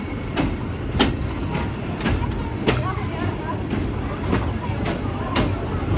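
Heritage steam train rolling between Anduze and Saint-Jean-du-Gard in the Cévennes, heard from on board: a low rumbling carriage drone with regular sharp clicks of wheels over rail joints, steady throughout.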